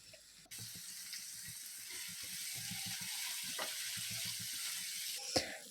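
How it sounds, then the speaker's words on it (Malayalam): Three large sliced onions with curry leaves and salt sauté in a hot pan for beef curry, giving a steady, close sizzle with soft stirring clicks throughout and no talking. "ഇതിലേക്ക് നമുക്കൊരു മൂന്ന് സവാള അത്യാവശ്യം വലിപ്പമുള്ള മൂന്ന് സവാള സ്ലൈസ് ചെയ്തത് ഇട്ട് കൊടുക്കാം"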